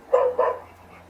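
Two quick barks from a LeapFrog Learning Friends 100 Words talking toy book, a recorded dog sound played through a small toy speaker, loud and close, then fading into quiet.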